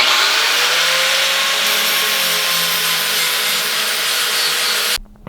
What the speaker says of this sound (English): So we're going to put it in the vise and then grind it down with a flap disc.